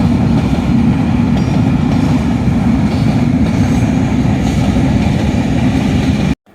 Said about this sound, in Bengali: সবাই ট্রেন চলে যাচ্ছে এখানে